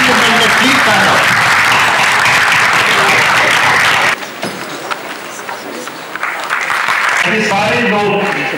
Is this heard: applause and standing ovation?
yes